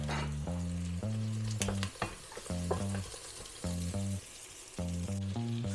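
Onion and chili sautéing in a hot pan for sizzling pork sinigang, a constant close sizzle broken by repeated spatula strokes and scrapes, with a steady melodic tone running underneath.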